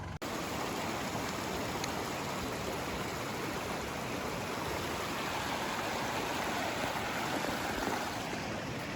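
A river flows steadily at a remote bush campsite, producing a constant close rushing wash of water that stays even and unbroken throughout.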